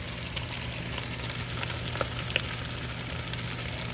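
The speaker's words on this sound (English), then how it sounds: "garlic that you just minced. And you're gonna drop it in there with your beef." Beef and freshly minced garlic sear in hot oil for broccoli beef, a loud steady close sizzle with a few faint crackles and spatula ticks, no voices.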